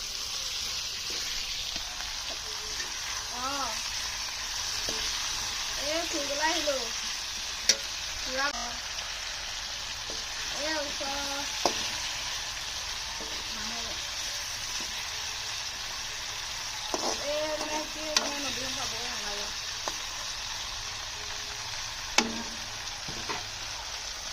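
Chopped tomatoes sizzling and frying in a pan as the base for a Gahori-style pork dish, with a steady low hiss throughout and occasional stirring clinks and scrapes of a utensil against the pan.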